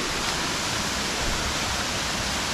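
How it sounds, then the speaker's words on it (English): Steady, dense rush of a waterfall on the Wodi Wodi Track in Australia, a constant broadband roar filling the clip with no voices. "At least we get to see the waterfall"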